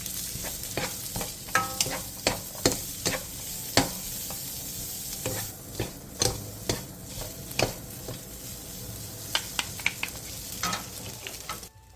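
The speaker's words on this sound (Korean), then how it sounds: "팬에 기름을 두른 뒤 어묵과 다진 마늘 반 스푼을 넣고 센 불에서 1분 정도 볶아주세요." Fish cake and minced garlic stir-fried in oil in a pan over high heat, a constant sizzle broken by repeated sharp spatula scrapes and taps against the pan at a steady, uneven rhythm.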